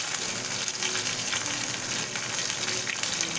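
Ginger and radhuni seeds fry in hot oil as a tempering for a Bengali bitter gourd and pea dal, a dense, continuous close hiss throughout, no voices.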